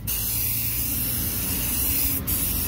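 Continuous close hiss of cleaner sprayed onto the flywheel of a Mitsubishi L300 4N14 engine during repair of an oil leak between engine and transmission, loud and steady with a brief break near the end.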